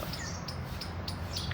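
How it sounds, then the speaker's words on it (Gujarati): Sparrows chirp in short, bright bursts in a garden over a steady hum of nearby highway traffic, a few quick calls scattered through the moment. "ખિસકોલીને ચકલીને એવો જ અવાજ આવશે મસ્ત"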